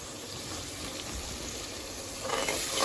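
Tadka with tomato frying in a pan, a steady close sizzle and bubbling hiss that runs throughout and swells slightly near the end.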